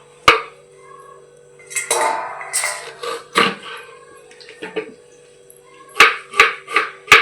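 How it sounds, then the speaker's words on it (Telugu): A man cutting vegetables with a knife in a home kitchen: a handful of sharp, spaced knocks on a board, then a quick run of four crisp chops near the end, close and clear. "కూరగాయలు మా ఆయనకి ఇస్తాను, కోస్తారు"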